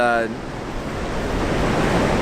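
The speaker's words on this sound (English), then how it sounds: "when the waves push in all the way across the beach and actually get me wet" Ocean surf on a beach at Morro Bay, California, with a brief wash of water giving way to a loud, steady rushing surge of waves pushing up the sand, mixed with wind buffeting the microphone.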